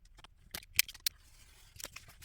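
Scissors trimming paper for a handmade Christmas card: a few quick, crisp snips close by, two sharp cuts in a row, then a softer snip after a pause, with no talking.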